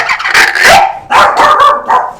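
A puppy barks in several short, sharp bursts, loud and close, with yippy high-pitched yelps in between.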